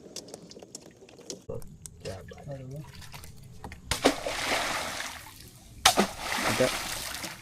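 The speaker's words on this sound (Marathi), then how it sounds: "जसं जसं पाण्याचा आवाज होणार तर ते मासे जे आहेत ना आतमधले ते पडणार इकडे तिकडे" Water is splashed in a creek to drive fish into a net during traditional fishing. Quiet sounds come first, then two loud bursts of splashing, with voices talking nearby.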